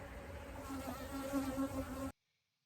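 A dense, steady buzz of many honey bees hums close by for about two seconds, then cuts off abruptly to silence.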